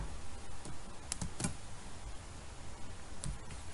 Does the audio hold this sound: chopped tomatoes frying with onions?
no